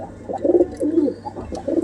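A male desi high-flyer pigeon of old bloodline, yellow-eyed, coos close by in about three rolling, throaty bursts with short pauses between them.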